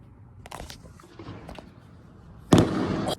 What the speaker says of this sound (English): Oh my god, as we were just talking about fireworks.